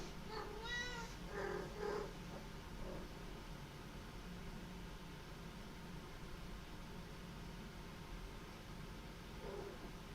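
A pet cat meows several times in quick succession near the start, rising and falling calls over a steady background hum, then one faint meow near the end.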